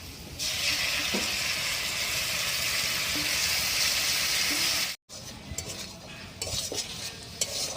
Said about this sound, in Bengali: টমেটোটা ভালো করে মিশিয়ে দিলাম